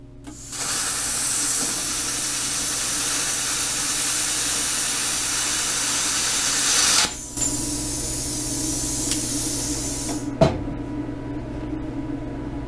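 An ArcCaptain arc welder running at 15 amps gives a steady, loud crackling hiss that holds for about seven seconds. After a brief break it resumes and then cuts off with a sharp pop near the end.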